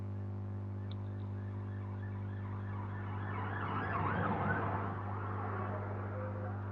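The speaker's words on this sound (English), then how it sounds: "Is that a police car or an ambulance?" A wailing siren from a passing police car or ambulance swells faintly under a steady low electrical hum, rising briefly in the middle and then fading.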